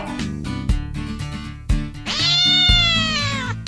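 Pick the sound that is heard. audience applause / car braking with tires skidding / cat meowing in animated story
cat meowing in animated story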